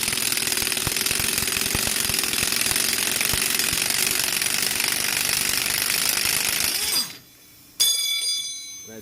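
Pneumatic impact wrench on a Ford Escape 4X4 rear wheel bearing, pulling the bearing out: a loud, steady hammering rattle running for about seven seconds, then cutting off briefly before a short burst and fading whir.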